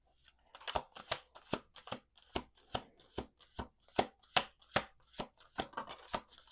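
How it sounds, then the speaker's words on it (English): Rapid papery riffles of cards being shuffled, arriving in quick repeated bursts close by, with no talking. "We're going to do 2 more shuffles."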